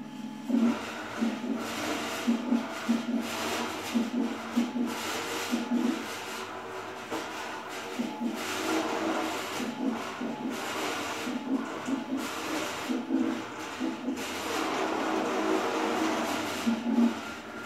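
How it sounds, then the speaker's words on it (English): A PlasmaCAM CNC plasma table doing a dry run without the torch firing, giving steady motor whine and mechanical rubbing with rhythmic pulses as the gantry moves, continuous and fairly close throughout. "I'll give you a quick demo of the machine running without the actual plasma on, just a dry run."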